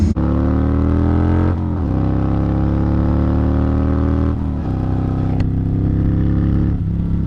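Kawasaki Vulcan motorcycle engine idling close up, a steady loud rumble that holds throughout with small shifts in pitch, after a freshly completed repair.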